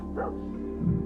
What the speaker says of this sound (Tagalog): Tumigil nga kayo sa pagtahol.